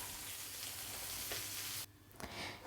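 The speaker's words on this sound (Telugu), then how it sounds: "ఇప్పుడు మనం ఏదైతే స్టవ్ మీద ఆయిల్ పోపు పెట్టుకున్నామో దాన్ని కూడా దీంట్లో యాడ్ చేసుకునేస్తున్నా" Hot oil tempering sizzling loudly in a tomato pickle, a steady dense crackle that cuts off abruptly near the end and then resumes as it is stirred in.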